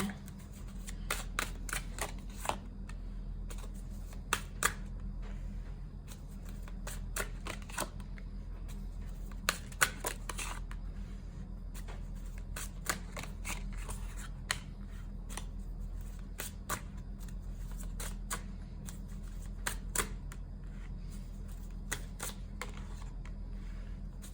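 Tarot cards are shuffled and handled close by for a long stretch, producing a steady run of quick, crisp flicks and riffles over a low background hum, with no talking.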